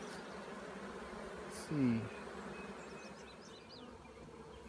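Bees buzz around a swarm trap at a wilderness retreat, a low steady hum that stays mostly faint, with one brief louder pass close by midway and a short spoken phrase over it.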